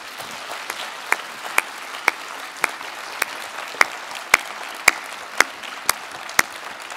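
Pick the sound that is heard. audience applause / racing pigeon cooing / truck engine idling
audience applause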